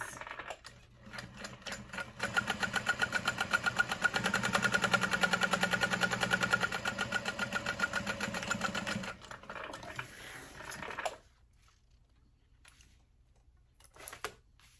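A sewing machine top-stitches a slip pocket onto a shoulder bag, running in a fast, even mechanical chatter for several seconds. It slows, stops, then gives a short final burst.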